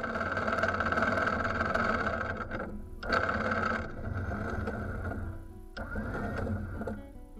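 A trailer sailer's engine runs steadily in reverse while anchoring, with a loud, churning drone that dips and shifts a few times, with no talking.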